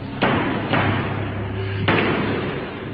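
A door bangs shut several times in a home during an eerie episode, three heavy thuds spaced apart over a steady low background hum.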